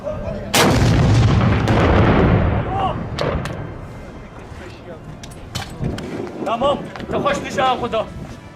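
Heavy artillery fired by Kurdish-led democratic forces: one loud, close boom rolls into a long rumbling decay, followed by distant voices and scattered smaller bangs.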